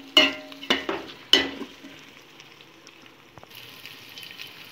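Chicken marinated in yogurt is stirred in a pot for biryani: a few wet, squelching scrapes and knocks up front, then softer faint stirring and a light sizzle trailing off.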